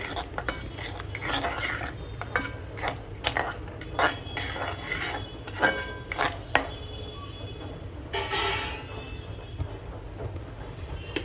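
Mashed kasuri methi is stirred into dum aloo gravy in a pan with repeated scraping, clinking spoon strokes against the metal over a low background hiss, close and without talking.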